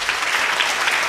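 Applause from a lecture audience after a talk on moving water, a loud, dense burst of clapping heard close up and continuing without a break.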